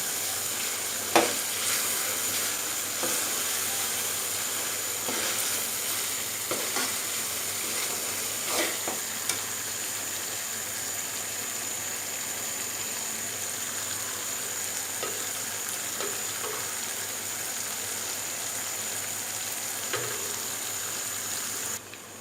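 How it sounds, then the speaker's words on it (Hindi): Okra (bhindi) roasting with spices in a pan, a steady close sizzle and fry hiss throughout with occasional soft scrapes and stirring taps, no talking. "एक से 2 मिनट इसको अच्छे से भून लेंगे ताकि स्पाइसेस भिंडियों में अच्छे से रच जाएं"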